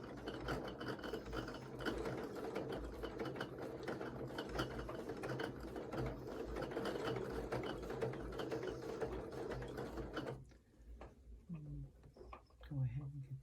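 A sewing machine stitches through the center of a fabric ornament, a steady close mechanical whirring and rapid clatter that runs for about ten seconds, then stops abruptly, leaving faint handling noise and a few soft chirps.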